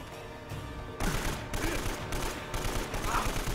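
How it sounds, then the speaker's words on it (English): Heavy gunfire from a big gun and a shotgun in the Uncharted: Drake's Fortune fortress level booms in dense, overlapping bursts, loud and close, after a short quieter lead-in. "that sounds like a big gun. And that's a shotgun."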